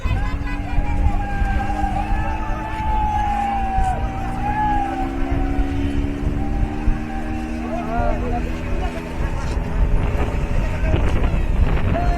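Speedboat ride on Massanjore Dam: a steady engine drone with whining tones and constant wind buffeting across the whole ride, with faint shouts and crowd voices mixed in.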